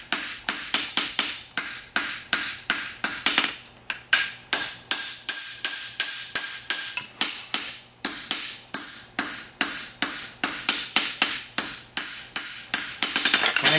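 Farrier's hammer striking a horseshoe on an anvil, a long run of sharp metallic blows in steady rhythm with brief pauses between bursts, close and ringing.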